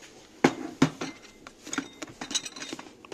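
Plastic food container and lid from a two-container set (2 and 3.5 litres) being handled, giving a few sharp close clicks and taps followed by lighter rustling and knocks, with no talking.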